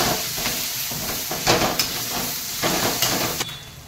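Onion and green chilli fry in a pan seasoned with turmeric and salt, giving a steady close sizzle and hiss with a few brief stirring bursts, no voices.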